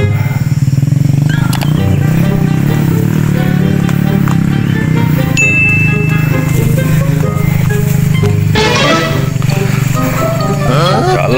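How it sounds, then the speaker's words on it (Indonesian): A motorcycle rides along a rough, bumpy road on the way to a bushcraft camping spot, its engine droning loud and steady throughout while a rider's voice and some shouts come through over it. "Jalannya kayak gini, bawa motor."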